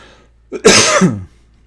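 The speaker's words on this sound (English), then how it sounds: "Sorry for all the coughing." A single loud, harsh cough burst close to the mic, lasting about half a second, with a short breathy lead-in and quiet surroundings.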